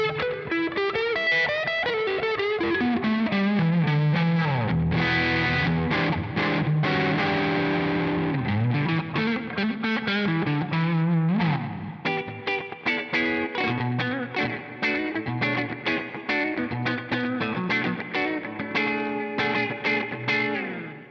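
Eastman electric guitar on its neck pickup, run through distortion and effects units, playing a continuous, loud, sustained riff of chords and single notes with a chorus-like shimmer, full and alone without voices.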